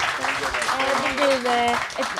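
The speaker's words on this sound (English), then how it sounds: "A big applause for the panel" A crowd applauding the panel at an arts discussion, a short burst of clapping beneath voices talking over it.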